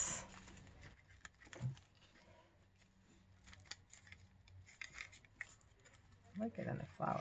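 Scissors snipping a small piece of paper for a handmade boho-style envelope tag at a craft table, with soft rustling and scattered faint snips, followed by someone speaking near the end.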